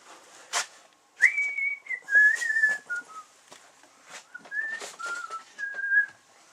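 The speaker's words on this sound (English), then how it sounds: "You know you got a pretty good job when you can sit there and whistle while you work" A taxidermist working on a deer mount whistles a loose, wandering tune in short melodic phrases with pauses between them, close and clear over light clicks and handling noises from the work.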